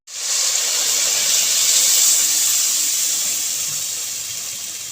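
Cooked masoor dal hits a pan of hot garlic tempering with a sudden loud sizzling hiss that holds steady, then slowly fades over several seconds, close and alone.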